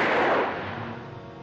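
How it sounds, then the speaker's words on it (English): A single loud report from a gun in a 1942 film rings out at the start and then fades into a long echoing decay, with no voices. "Those were shots, I'm sure."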